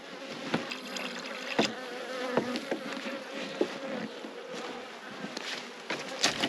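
Honey bees bringing in pollen around an open hive, a continuous close buzzing hum broken by scattered clicks and knocks of frames being handled, soft overall and with no voices.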